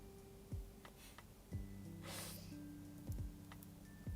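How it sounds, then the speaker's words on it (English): A dog snoring softly nearby, with slow rhythmic snorts and breathy rasps recurring about once a second, faint and alone in a quiet indoor room. "Unless you guys actually want to listen to my dog snoring."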